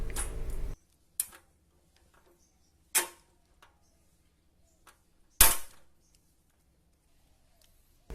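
A Richard Schmitz MRV 773 rivet nut tool setting a rivet, giving a few sharp separate clicks and snaps with quiet gaps between, close and fairly loud, with no talking.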